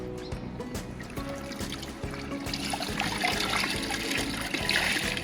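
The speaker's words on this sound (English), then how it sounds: "I'm going to find my shirt and I'm going to squeeze it out really well so that it doesn't drip anymore" Water trickles and drips from a wet tie-dye shirt being squeezed out, a steady watery patter that grows louder and splashier partway through, with no talking.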